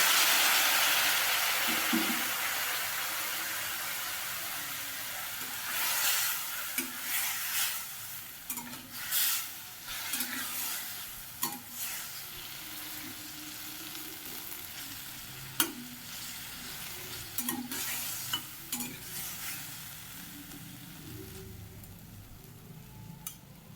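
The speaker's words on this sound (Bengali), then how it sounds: "এবার সামান্য একটু জল দিয়ে দিলাম" A little water poured into a hot pan while making pickle, bursting into a loud hiss that slowly fades, followed by repeated stirring scrapes and knocks against the pan over a lingering sizzle.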